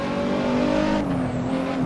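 A Nissan R35 race car engine in Assetto Corsa, a steady, loud drone at high revs that shifts pitch slightly as it holds, heard close with no talking.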